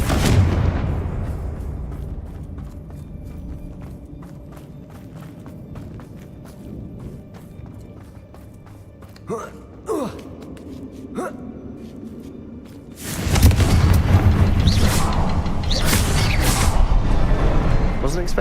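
The Confringo fire spell in Hogwarts Legacy goes off with a sharp opening burst, then rumbles. A few whooshing spell sounds follow, and a loud crackling surge of fire and blasts comes near the end.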